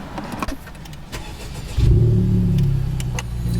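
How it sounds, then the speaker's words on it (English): A 2021 Honda Civic Type R engine revs up, a deep, loud, sustained rumble rising after some clicks and handling noises, close by. "I need to throw in some E85 so Vivian and I can do a rip or two"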